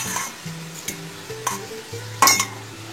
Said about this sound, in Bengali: এবার আমি যে দইয়ের মিক্সচারটা বানিয়ে রেখেছিলাম মশলার সাথে, সেটা এবার এর মধ্যে দিয়ে দিচ্ছি